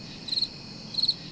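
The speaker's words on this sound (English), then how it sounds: "Insert crickets chirping." Crickets chirp in two short, bright bursts separated by a brief quiet gap, over a faint background hush, used as a comic sound effect. No voices.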